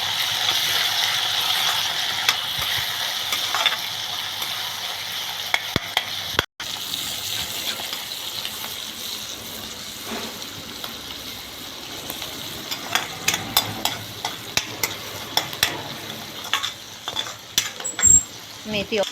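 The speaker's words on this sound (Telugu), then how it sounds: "తర్వాత ఇందులోనే నీటి, మెంతికూర వేసాక మంచి ఆయిల్లో వేగనివ్వాలి." Fenugreek leaves fry in oil in a pan with a continuous soft hiss and sizzle. Scattered light clicks and spatula scrapes grow busier toward the end, and no one speaks.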